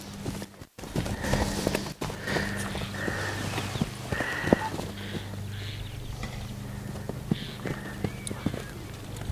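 A horse led on foot in a groundwork lesson gives soft, irregular clip-clop hoof falls on the ground, moderately near, with a person speaking intermittently over them.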